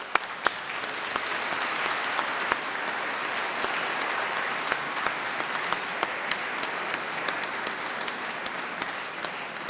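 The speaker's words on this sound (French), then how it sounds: "Oui, vous avez raison d'applaudir" An audience in a church gathering bursts into sustained applause, dense and even clapping from many hands that holds steady throughout.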